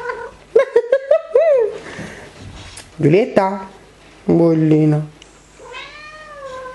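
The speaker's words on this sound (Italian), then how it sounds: "Ora vi faccio vedere i gatti che stanno facendo la lotta." Cats fighting, with several meows and yowls, some rising and drawn out, coming in bursts amid scuffling, while a person speaks briefly between them.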